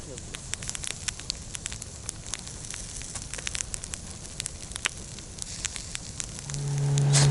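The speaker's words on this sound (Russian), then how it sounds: "вернулись, развели костер" A campfire at a remote outdoor camp on a frosty night crackles steadily with dense pops and snaps over a soft hiss, and voices occasionally murmur under it.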